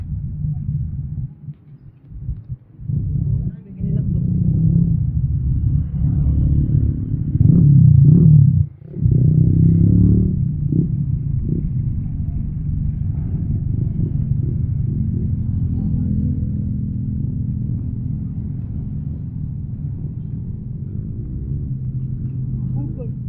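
A car pulls up and idles with a steady low rumble and engine hum, close by, while people talk over it.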